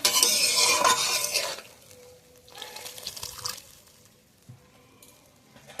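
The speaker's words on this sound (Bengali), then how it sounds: "তরকারিটা ফুটে গেছে" A curry with fish and eggplant in a pan: a wet, squishy stirring and bubbling burst at the start, then quieter simmering with scattered faint clinks.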